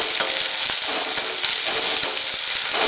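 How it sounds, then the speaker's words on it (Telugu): Cut ripe ivy gourd (dondakaya) frying in a pan for pickle, a loud close continuous sizzle with regular scraping strokes and taps of the spoon as it is stirred, with no one speaking. "మూత పెట్టి ఫ్రై చేయండి."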